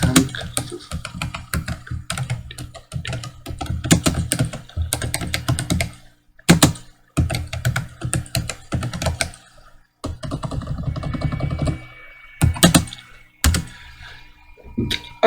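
Someone types on a computer keyboard into the header of an MS Word document: loud, close, rapid bursts of key clatter broken by short pauses, with no talking.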